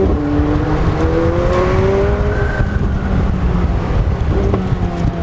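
An 800 HP McLaren Elva, a windshield-less open road car, accelerating hard with its engine note sweeping upward through the gears under heavy wind buffeting; loud and close throughout, no talking.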